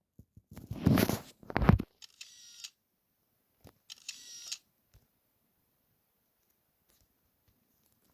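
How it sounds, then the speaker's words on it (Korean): Camera shutter clicks in a two-player video game minigame, two bursts of sharp clicking near the start, then a softer pair of clicks around the middle, followed by quiet with a faint tick at the end. "유령이 나타날 때 셔터를 눌러야 돼요"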